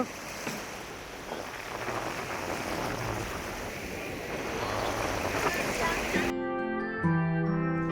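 Sea waves washing onto a beach at night, a broad steady surf roar with wind, rising slightly as water rushes toward the shore, before music takes over near the end.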